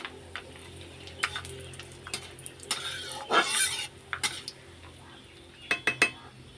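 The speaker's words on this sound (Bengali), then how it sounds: "এই যে এটা একটু নাড়া দিয়ে দিই পোড়া পোড়া হয়েই এসছে" Potatoes being stirred in a frying pan on a home stove, with a utensil clinking and scraping against the pan in irregular bursts and a faint sizzle underneath, close and fairly quiet.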